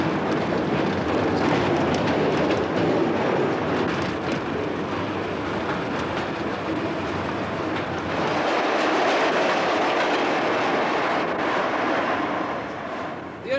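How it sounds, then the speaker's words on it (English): A small London Post Office underground mail railway train rumbles steadily along the track in a tunnel, a loud continuous roar with faint rhythmic clatter, no voices. "Take the post office railway."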